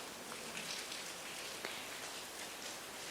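Evening rain falls steadily on surfaces outdoors, a dense, even hiss with occasional louder drop taps and no speech.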